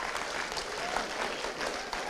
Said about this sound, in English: So if you could give them a quick round of applause.